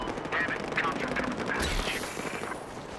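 Rapid bursts of gunfire in the video game Battlefield Hardline, automatic weapons rattling at mid distance with other game noise underneath, while a player talks over it.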